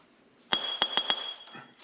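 A flathead screwdriver pries a metal dust cap off a wheel bearing on a trail vehicle, giving four quick, bright metallic clinks close by that ring briefly. The area is otherwise quiet.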